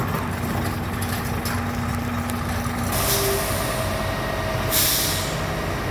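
A Scania truck moving along with no driver aboard gives a steady, moderate engine drone with a faint whistle, then a sharp hiss of air brake release partway through and another near the end.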